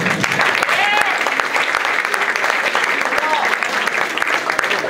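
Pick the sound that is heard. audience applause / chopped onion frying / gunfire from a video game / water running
audience applause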